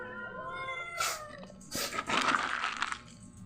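A kitten meows several times, high and wavering, close by, with a brief rustle between calls.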